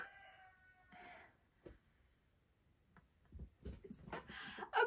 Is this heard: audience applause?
no